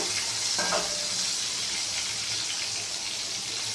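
Eggplant pieces frying lightly in hot oil give a steady, dense sizzle close by, with a faint clink partway through and no voices.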